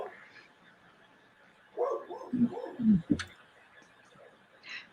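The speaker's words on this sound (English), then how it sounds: "And Dog is barking." A pit bull mix dog barks four or five times in a quick cluster from a moderate distance, followed by a fainter yelp.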